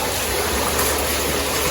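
A submersible aerator pump churns water in a concrete fish pond, producing a steady, loud, broadband rushing and splashing that fills the short stretch without pause.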